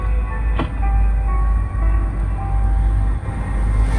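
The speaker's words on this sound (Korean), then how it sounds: "기차가 지나가는 목소리가 들리고" A train rumbles past at close range, a loud steady roar of wagons with a heavy low rumble and faint rail clatter running throughout, with no voices.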